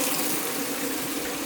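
Water runs steadily from a tap in a desert country, a continuous rushing hiss with no pauses and no voices.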